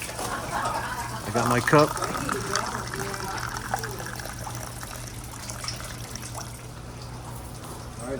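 Spring water flows steadily from the historic Fountain of Youth spring in St. Augustine, Florida, at an archaeological park. It makes a soft continuous trickle and gush under a brief spoken remark and faint background voices.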